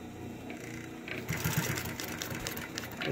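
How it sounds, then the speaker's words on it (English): A Consew 226 industrial sewing machine driven by a clutch motor runs slowly at about seven stitches per inch, a close, steady mechanical chatter of needle strokes with a faint motor hum. "I can run it this slow with a clutch motor"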